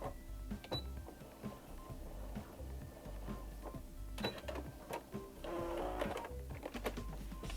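A sewing machine stitches fabric for a stuffed fabric snowball, a quiet run of rapid mechanical clicking and whirring in short bursts with brief pauses.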